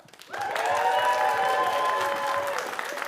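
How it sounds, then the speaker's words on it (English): A studio audience breaks into cheering and whooping after a quiet moment, a dense, sustained roar of many voices with applause that carries steadily to the end. "So by way of cheering, whooping, stamping of feet, which one do you want to watch?"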